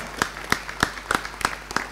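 A few sparse, distinct claps at a state party assembly, about six sharp slaps spaced evenly and fairly faint, with no voices over them.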